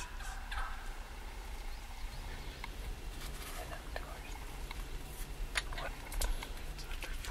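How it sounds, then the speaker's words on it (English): Wild turkeys in a field call with scattered gobbles and clucks at a distance, while a person whispers quietly close by. "All these birds are just staying right here teasing us."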